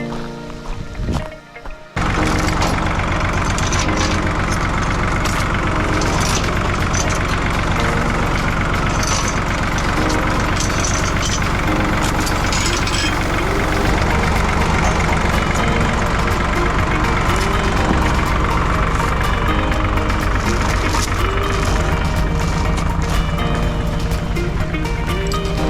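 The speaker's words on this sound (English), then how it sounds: "Okay, let's go get the tractor and park it here." A farm tractor engine runs at a steady, loud idle with a constant low rumble and mechanical rattle throughout. A brief quieter moment comes at the start, then the engine grows slightly louder partway through.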